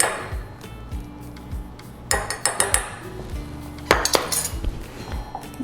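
A spoon stirs flour into mug cake batter, its metal clinking and scraping against the mug in irregular bursts, with a few louder clusters of taps standing out clearly, close and alone.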